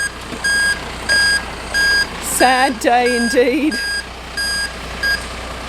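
Regular electronic beeps from a truck reversing to load a broken-down van for transport to a mechanic, sounding in evenly spaced bursts with people briefly talking over the middle.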